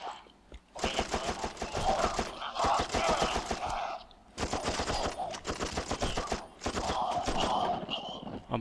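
Rapid bursts of automatic gunfire from a shooter game, set in a totalitarian world, rattling in two long volleys separated by a brief pause, loud and close with sharp repeated shots throughout.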